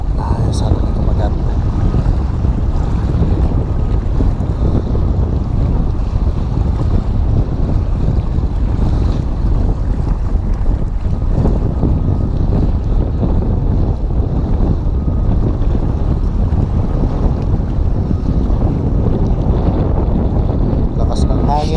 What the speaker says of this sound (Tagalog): Lakas ng hangin, kontra sa tubig.